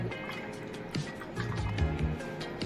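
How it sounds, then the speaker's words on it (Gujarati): Cold water poured into a raw mango sherbet (aam panna) made with ice, giving a steady liquid splash and trickle for a few seconds at close range, with no talking. "ઠંડુ પાણી એડ કરી દઈશું."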